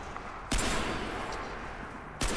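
Pistol gunfire in the video game Crysis 3, two loud sharp shots about a second and a half apart, each with a long ringing decay, no talk over them.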